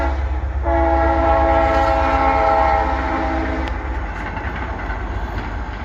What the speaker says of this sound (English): Take a minute to watch the train go by.